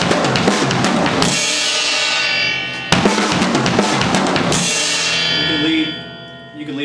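Fast, busy drum kit playing with rapid rolling triplet figures across drums and cymbals, loud and close, pausing briefly before continuing.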